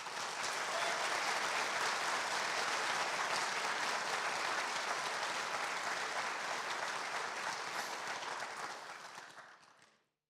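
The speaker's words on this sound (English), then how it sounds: "So let's have a round of applause for all of our conference committee." Sustained applause from a conference audience honoring the organizing committee at an opening session, loud and steady for about nine seconds before fading out at the end.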